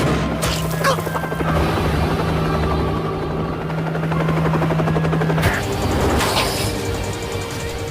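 A helicopter in an anime chase scene roars loudly with a steady rotor thrum and a whining turbine tone, and a couple of sharp crash-like hits break through partway.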